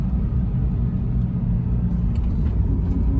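A Scion FR-S engine strains under acceleration in limp mode, a steady, loud low rumble with a flat, held-back drone and no rising rev sweep, heard alone.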